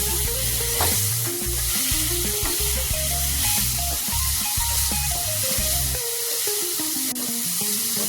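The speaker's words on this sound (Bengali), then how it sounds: "আবারও মশলার সাথে ওলগুলোকে একবার ভালোভাবে ভেজে নেব" Elephant foot yam frying with spices and three green chillies in a pan for a spicy yam and prawn curry, a steady close sizzle with stirring throughout, under background music.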